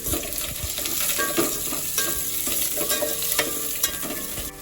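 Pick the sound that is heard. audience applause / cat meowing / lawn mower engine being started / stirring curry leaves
stirring curry leaves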